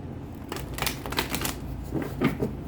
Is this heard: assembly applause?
no